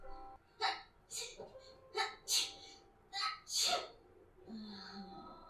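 A series of sharp sneezes from a viewer watching an anime episode, several loud bursts in quick succession with short breaths between, close to the listener and with no talk over them.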